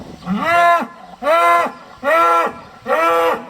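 Large livestock cattle, sacrificial animals weighing around 900 kg, moo four times in a steady rhythm, each call loud, close and drawn out with a rising then falling pitch.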